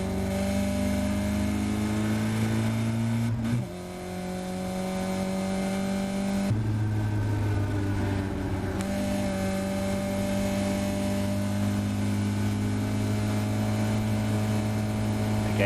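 Caterham race car at full throttle on the Silverstone Grand Prix circuit, its engine a loud, close, sustained roar that briefly dips and then climbs again through gear changes along the Hangar Straight.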